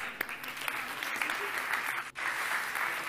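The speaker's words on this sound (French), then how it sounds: "On applaudit encore Elena." A crowd claps steadily, a dense patter of many hands, continuing without pause across the whole short stretch at moderate volume.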